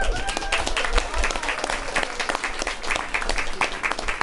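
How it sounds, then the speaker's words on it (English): A crowd at a live music show claps loudly in a dense, continuous burst of applause, with a few cheers mixed in and no talking. "Give yourself a big round of applause,"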